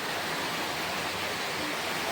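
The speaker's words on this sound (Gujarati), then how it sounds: "આપણે ઘરે આવીને આમ જુઓ વરસાદ આવે છે ફૂલ" Heavy rain pours down steadily outside a home during a storm, a dense, unbroken wash of noise that stays loud and even throughout with no voices.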